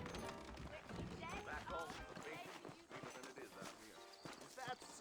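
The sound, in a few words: saddled horses walking, from Red Dead Redemption video game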